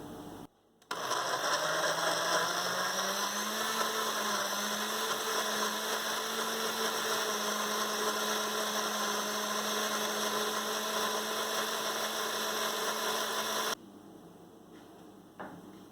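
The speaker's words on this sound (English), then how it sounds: "the remainder I will puree in the blender" An electric blender purees jackfruit with whipping cream, its motor starting up and then holding a steady, close whirring drone for about thirteen seconds before it cuts off.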